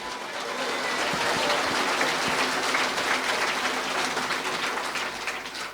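A Church of Christ congregation applauds loudly in a continuous, roaring wash of clapping that holds steady for several seconds before easing off slightly.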